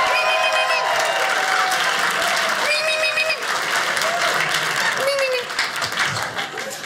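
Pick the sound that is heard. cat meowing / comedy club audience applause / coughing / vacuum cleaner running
comedy club audience applause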